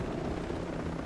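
Helicopter flying in the video game Ghost Recon Breakpoint, a steady low rotor thrum and engine drone, close and continuous with no talk over it.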